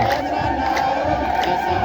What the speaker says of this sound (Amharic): ድምፅ ያንሳል ለእመቤታችን እልልታ